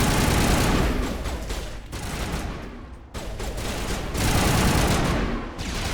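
Dense, continuous automatic gunfire in the Mass Effect: Legendary Edition video game, a loud sustained barrage with brief lulls around the middle.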